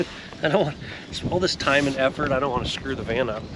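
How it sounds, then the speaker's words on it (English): Outdoor wind buffets the microphone with a steady low rumble beneath close, continuous speech. "Sorry about the wind, by the way."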